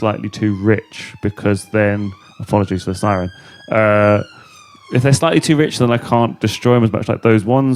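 A police siren wails continuously outside, its rising and falling tone audible under close, steady conversational speech indoors.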